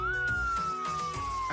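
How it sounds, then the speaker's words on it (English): An Australian police car siren wails in a steady, slowly falling tone, fairly faint and distant, with engine rumble underneath. "A quick lights and siren later,"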